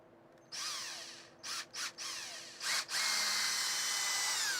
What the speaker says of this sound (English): We are going to chuck that into the drill.